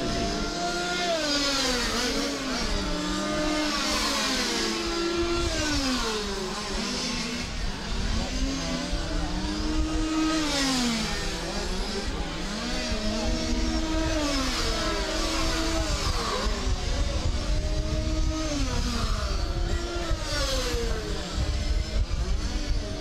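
Several radio-controlled model race cars with small high-revving engines, one wearing an older-generation Honda body, scream around a club track at Ris-Orangis, their pitch rising and falling continuously and loudly as they accelerate and brake through corners.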